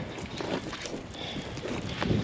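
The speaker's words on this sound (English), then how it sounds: "Got a little bit of wind here in Picture Canyon" Wind gusts through Picture Canyon on a hike, producing a faint, low rumbling buffet against the microphone that rises and falls for a couple of seconds without any speech.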